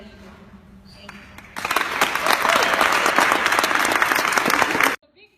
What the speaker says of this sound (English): A big round of applause for deciding to be one.